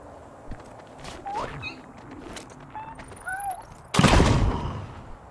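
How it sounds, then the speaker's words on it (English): A bomb going off in Journey to the Savage Planet, one sudden loud blast that follows quieter alien chirps and footsteps, preceded by a rising whistle and then trailing off in a fading rumble. "I'll try bombing it open"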